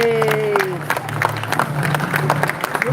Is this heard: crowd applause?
yes